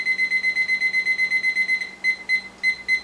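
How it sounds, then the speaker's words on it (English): A kitchen timer set for brewing tea gives a steady run of rapid, high electronic beeps close by, then a few broken, irregular beeps as the buttons are pressed, with no talk. "We're going to, first of all, set our timer for 1 minute and 30 seconds for this tea."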